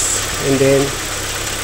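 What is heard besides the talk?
Kia Rio car engine starting and idling roughly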